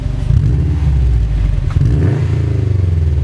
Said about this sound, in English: this car has an SPT exhaust system, which is the one that is dealer installed